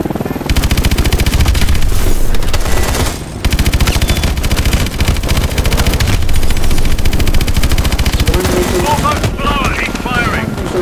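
Heavy main gun firing in Call of Duty: Advanced Warfare, a loud continuous rapid stream of shots lasting nearly the whole time with one brief pause, set against engine rumble and battle noise.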